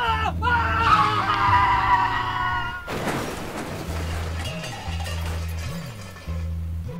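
A car skids and crashes in the video game I Am Bread. A bright, harmonic tire screech comes first, then a loud broadband crash of impact. A low droning tone pulses underneath the whole time.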